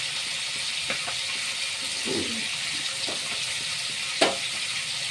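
Pieces of fish fry in hot oil for a yogurt fish curry, giving a constant close sizzle with a few stirring knocks and a sharp clack near the end.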